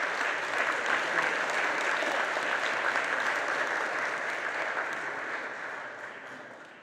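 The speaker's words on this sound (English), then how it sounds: "Can we give a round of applause for Joanne Lawson?" A crowd applauds for Joanne Lawson at Rev James Lawson's 95th birthday celebration, a dense, steady wash of clapping that holds for several seconds and then gradually tapers off.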